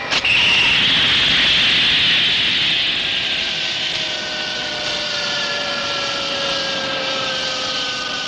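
A loud, steady spacecraft engine roar with a high whine that slowly drops in pitch as it runs on, continuous and close.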